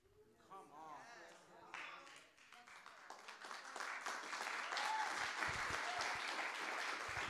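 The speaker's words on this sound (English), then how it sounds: "Come on, keep clapping." Church congregation breaking into applause and clapping, starting under a preacher's voice and swelling into loud sustained clapping from many hands.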